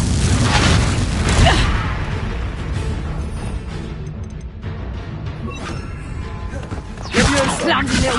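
A Confringo blasting spell in a Harry Potter video game goes off in loud booming bursts, a strong blast at the start and another near the end, amid the game's voices and combat noise.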